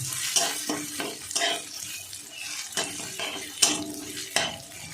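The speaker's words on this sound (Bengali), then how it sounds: "ঘি দিয়ে এভাবে এই চালটা ভালো করে ভেজে নিতে হবে" Rice frying in ghee while a spoon stirs it through the pan, making close scraping strokes and metallic clinks in an uneven rhythm over a soft background sizzle.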